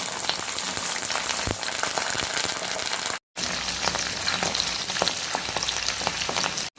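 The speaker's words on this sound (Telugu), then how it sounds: "కరివేపాకుని అలాగే పచ్చిమిర్చిని కూడా వేసుకొని ఫ్రై చేసుకోవాలి" Curry leaves and green chillies fry in hot oil in a pan for a cauliflower Gobi 65 dish, giving a close, loud, steady crackling sizzle with scattered pops and a brief break partway through.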